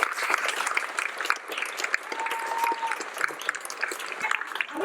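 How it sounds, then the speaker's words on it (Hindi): An audience at a television show's 1000-episode celebration breaks into lively applause, dense clapping that holds steady for several seconds with a faint voice underneath. "उनका जोरदार तालियों से स्वागत।"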